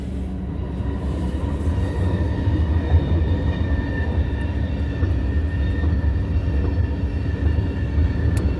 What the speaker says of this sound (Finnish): Se on tavarajuna.